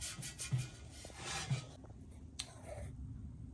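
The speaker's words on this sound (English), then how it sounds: "Just get your Scotch-Brite pad, start hitting that up." A Scotch-Brite pad scrubs a two-stroke exhaust pipe over a sink, giving quiet short rubbing and scraping strokes in uneven bursts, close but faint, with no talking.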